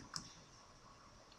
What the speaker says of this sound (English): So go up here, click on the 3D view